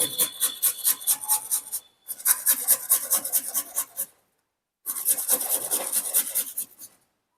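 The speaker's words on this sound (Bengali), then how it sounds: "আদাটাকে আমি একটু গ্রেটারের সাহায্যে ঘষে নেব" Fresh ginger rasped against a metal grater in three bursts of quick, steady back-and-forth strokes, close and clear, with short pauses between runs and no talk.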